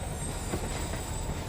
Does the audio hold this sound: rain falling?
no